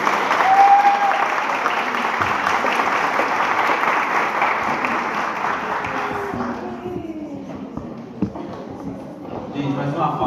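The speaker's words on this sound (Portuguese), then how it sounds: "mais uma palmas pra Cláudia" Audience clapping at a Creativity Day event in Cotia for a guest speaker, sustained applause that thins out in the second half as voices come through.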